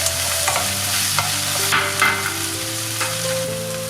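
Ground coconut and green chilli are stirred in a pan while making beetroot inji thairu: close scraping strokes over a soft sizzle, with a sustained tonal layer in the background.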